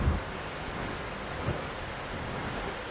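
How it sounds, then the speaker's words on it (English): Strong wind and breaking ocean surf on a coastal beach hike along the Lost Coast Trail, a steady broadband roar with a couple of soft thumps, continuous and fairly loud with no talking. "Windy, I don't know if you can hear me."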